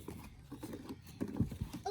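A horse's hooves clip-clop in a quick, uneven run of soft knocks, faint and close, with a little murmured voice in the background.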